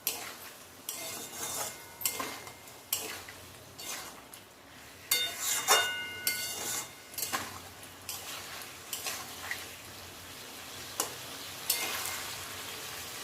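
Spine gourd sautéed in a pan with green chili, whole cumin and mustard seeds under a spatula's steady scraping strokes, a soft sizzle beneath irregular clinks against the metal, with no talking.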